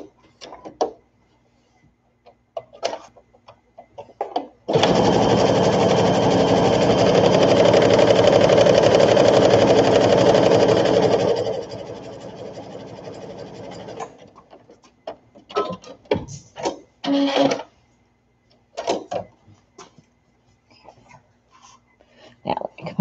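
A sewing machine stitches a baby sunsuit in one sustained loud run of about seven seconds, slowing and fading, with quieter handling noises and brief talk around it.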